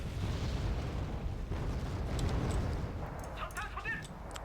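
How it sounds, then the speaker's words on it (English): Artillery shells exploding in the video game Wargame Red Dragon, pounding K1 tanks, give a dense, continuous low rumble of blasts and booms, with a few brief higher tonal effects toward the end. "These K1s are taking quite the pounding from artillery"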